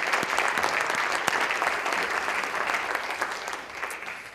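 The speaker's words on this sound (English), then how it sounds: "let's give them a big round of applause for being good students" Steady applause from a crowd, clapping filling the whole stretch at moderate distance, even and sustained without voices.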